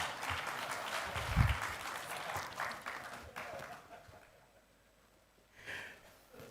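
A government anti-corruption ceremony audience claps in a short round of applause, moderately loud and fairly distant in a large hall, fading out after a few seconds, with a brief sniff or breath near the microphone.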